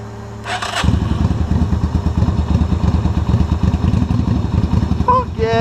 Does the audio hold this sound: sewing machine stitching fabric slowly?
no